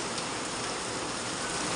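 Steady, dense rain falls without a break, a continuous hiss filling the whole clip with no voices.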